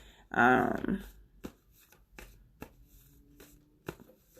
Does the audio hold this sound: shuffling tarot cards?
yes